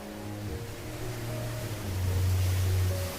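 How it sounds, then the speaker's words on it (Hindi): A river flows fast with churning waves, a steady, full rushing wash underpinned by a deep low rumble that swells slightly louder toward the end, with no voices. "नदी में पानी का बहाव और लहरें"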